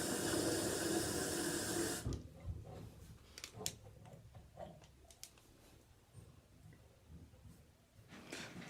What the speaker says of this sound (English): run some water through it